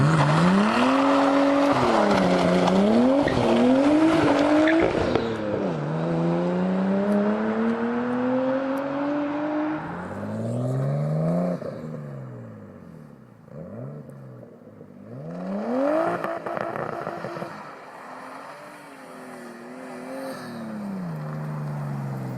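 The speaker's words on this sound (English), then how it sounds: "insert some clips of my mate Matt's Skyline R33" Nissan Skyline R33 GTST turbo car driving, its engine revving up through the gears in repeated rising sweeps, then easing off and climbing again, loud and close at first before dropping back and returning, with no talking.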